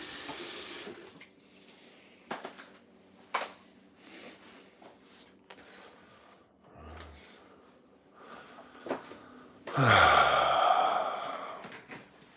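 Dirty water is cleaned out near a sink. A quiet room with soft breaths and occasional light knocks comes first, then a tap gushes loudly for a couple of seconds near the end.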